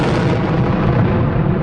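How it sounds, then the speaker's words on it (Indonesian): A heavy rocket explosion roars as a dense, sustained rumbling boom lasting over a second, loud and broad with no voices. "ledakan roket tersebut"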